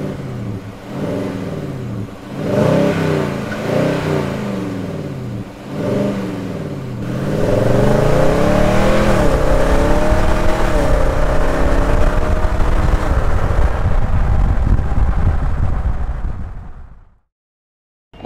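A 2021 Nissan Titan fitted with a Z1 Motorsports cold air intake revs loudly in several sharp bursts, then climbs into one long sustained roar that holds for about ten seconds before cutting off.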